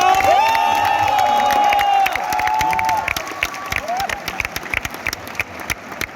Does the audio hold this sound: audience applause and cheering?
yes